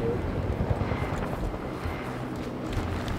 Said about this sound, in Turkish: Helikopter var yakın. Tepende.